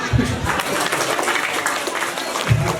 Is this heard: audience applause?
yes